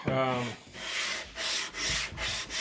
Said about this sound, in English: Could use a fresh piece of sandpaper.